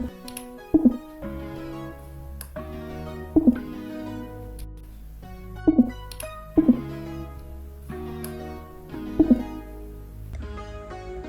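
A deep error beep from the VS Code editor, triggered by typing something wrong, sounds about eight times at irregular intervals over a steady musical background, each a short, loud, low tone.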